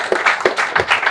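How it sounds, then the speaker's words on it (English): A round of applause for a doctor at a leadership event: a short burst of several loud, close hand claps in quick irregular rhythm, with no voices over them. "So please give a round of applause."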